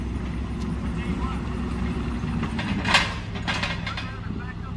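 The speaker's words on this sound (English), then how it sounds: "Bryant went and got a skid steer and he's unloading some stuff" A skid steer unloading supplies on a farm, a low engine rumble with mechanical clanks and one sharper knock, heard at a distance beneath a person talking.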